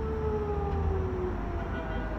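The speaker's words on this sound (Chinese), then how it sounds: "哎，又是防空警报" Air raid siren wailing steadily in a war-damaged area, its long rising-and-falling tone carrying continuously through the whole stretch with no talk over it.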